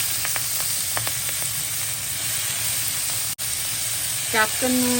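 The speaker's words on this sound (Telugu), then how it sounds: "కొంచెం కరివేపాకు వేస్తున్నా అట్లా క్యాప్సం కూడా వేసేస్తున్నా కొంచెం మగ్గాలి మంచిగా" Curry leaves and capsicum fry in a pan for pav bhaji, giving a steady close sizzle with a few faint crackles and a brief voice near the end.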